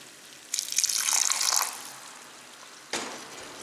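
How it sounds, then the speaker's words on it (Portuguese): Water poured into a hot pressure cooker to loosen browned meat stuck to the bottom: a half-second hissing splash, then a second brief burst near the end, fairly close with no talk. "vou colocar um bocadinho de água para soltar esse fundinho"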